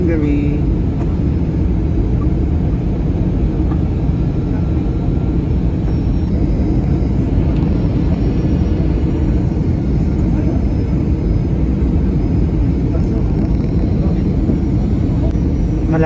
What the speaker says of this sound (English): We are landing now, guys,